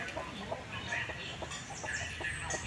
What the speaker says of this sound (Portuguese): tem uma galinha pra cá com pintinho